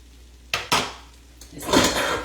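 A utensil scrapes and clinks against a pan while coconut shrimp pasta is dished up: two sharp metallic knocks, then a longer scraping rattle, close and fairly loud with no talk.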